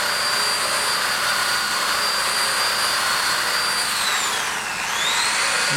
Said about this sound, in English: And then I'm going to break the edges a little bit with the drill.